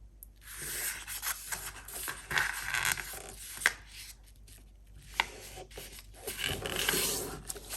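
Paper folded and creased by hand during a craft project: soft rustling and crinkling with a few sharp crease snaps, close and fairly quiet, no talking.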